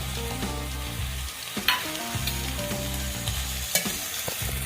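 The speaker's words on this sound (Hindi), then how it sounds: "इसको अच्छे से भूनेंगे अभी। इसमें साथ ही हमने लहसुन अदरक का पेस्ट भी ऐड कर देना है।" Steady sizzling of mutton or beef and onions frying in a pan with garlic-ginger paste, with repeated scraping and clinking as it is stirred, close and continuous.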